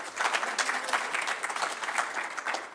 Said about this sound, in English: I'd like everyone to clap again for Reverend Linda for 25 amazing years